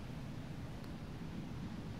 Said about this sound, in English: There's like wind, and then there's like leaves and everything.